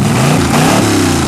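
A Jeep CJ5 or Farmall H engine revs hard on a cold start, held near redline in a loud, steady roar with the pitch rising and falling slightly.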